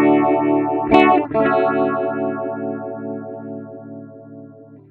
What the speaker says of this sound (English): We can then move down to the phaser.